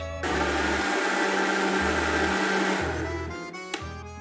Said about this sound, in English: Now we're gonna move this to the side and we're ready to blend.